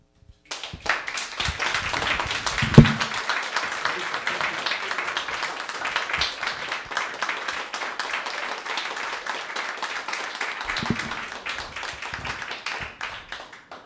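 An audience at an open mic story night claps and applauds steadily for over ten seconds, a dense patter of many hands that stays fairly even before thinning out.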